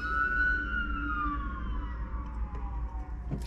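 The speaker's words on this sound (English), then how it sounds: "excuse the sirens here." A wailing siren sweeps downward in pitch over a steady low rumble of traffic, moderately distant and continuous throughout.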